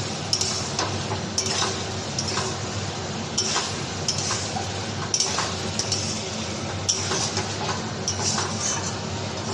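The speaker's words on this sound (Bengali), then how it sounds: "এটা যত কষবো তত তেল বেরোবে আর এর গ্রেভিটা একদম কষা কষা হবে।" Chicken curry sautéing in oil in a pan, a steady low sizzle with repeated scraping and clinking of a utensil stirring at irregular intervals, close and continuous with no talk.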